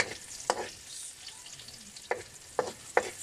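Onions sautéing in a pan for a catch-and-cook dish, a steady close sizzle broken by a few sharp stirring scrapes at irregular intervals, with no talking.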